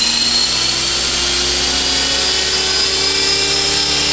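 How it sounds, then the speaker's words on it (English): A 450-class RC helicopter's rotor spools up close by, a loud, steady mechanical whine whose pitch climbs gradually over the few seconds, with no talking. "Another good idea is when you're spooling it up, do it slowly."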